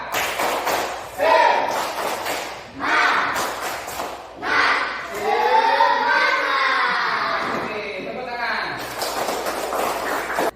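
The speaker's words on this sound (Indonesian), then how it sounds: "Kita tepuk semangat juga anak-anak ya" Schoolchildren in a classroom perform a rhythmic spirit clapping chant, bursts of sharp group claps alternating with loud chanted voices in several distinct phrases, close and energetic.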